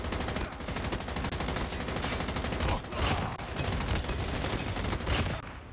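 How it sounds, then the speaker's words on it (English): Dense, continuous automatic gunfire in the Call of Duty Mobile video game, loud and relentless across the whole stretch with overlapping shots and little break. "He shot me while I was shooting everyone else."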